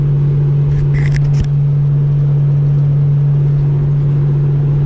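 Steady road rumble and engine drone inside a 2019 Chevy truck cruising along, continuous and loud with a constant low hum and a couple of faint clicks near the start.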